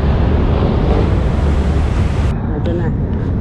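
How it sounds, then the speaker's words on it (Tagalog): Strong wind gusts outdoors along Kalaw Avenue near Rizal Park in Manila during light drizzle, a loud continuous roar of buffeting microphone noise that drops off abruptly near the end. "Medyo malakas ang hangin ngayon"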